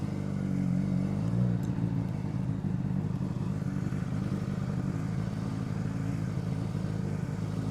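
Motorcycle engine idling and pulling at low revs during slow-speed riding practice in Florida, a steady low rumble with a brief clatter early on, no speech.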